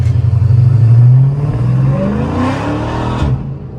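A Dodge SRT Hellcat engine revs loudly at night close by, its deep roar rising and falling through several throttle blips before tapering off.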